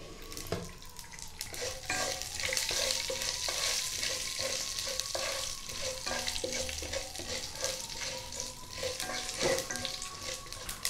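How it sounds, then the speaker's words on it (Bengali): Black mustard seeds splutter in hot mustard oil in a pan, a dense crackle of rapid pops over a constant sizzle with repeated stirring clinks. No voice is heard. "সর্ষে ফাটতে শুরু করে দিয়েছে।"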